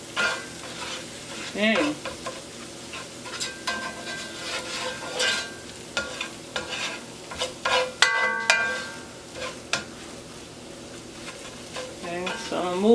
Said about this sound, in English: Just scramble my eggs really good.